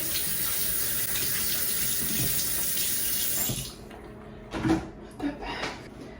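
Warm tap water runs steadily into a bathroom sink for face rinsing, close and continuous for about three and a half seconds, then stops and leaves a few short splashes and soft handling sounds.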